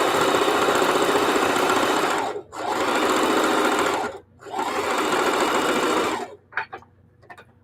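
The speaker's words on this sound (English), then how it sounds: "I always sew at least 2 blocks together" A sewing machine stitches quilt blocks together in three long, steady bursts of running, each broken by a short pause, then a few light clicks as it stops. The machine is near and loud, with no talk.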